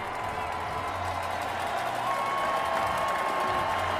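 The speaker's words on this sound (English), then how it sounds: "This Liberty crowd trying to urge on the defense here." Crowd noise from a college football stadium at Liberty, cheering on the home defense during a 2023 game against NMSU, a steady dense roar that fills the whole clip without a break.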